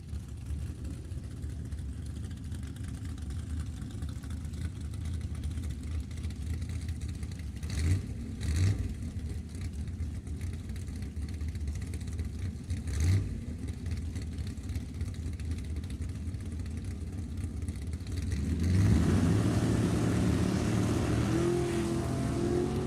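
A 1979 Malibu and a 1982 Camaro at a drag race, engines rumbling faint and distant for a long stretch, then swelling louder near the end as the cars accelerate.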